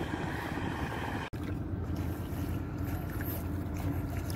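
A motorized boat runs along a Mekong Delta river, its engine a steady, fairly close drone with wind noise and one brief dropout.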